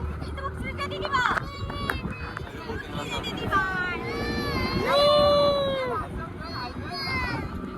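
A child cries with rising, wavering wails during an evening boat ride on the Panshet dam reservoir, heard close over steady wind and engine rumble, with other people talking around.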